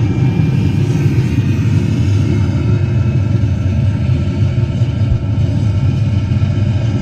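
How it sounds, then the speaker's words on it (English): Simulated rocket launch engine rumble on Epcot's Mission Space ride, a loud, steady, dense low roar that fills the whole stretch without letup or voices. "We have main engine start. 5, 4, 3, 2, 1. Liftoff."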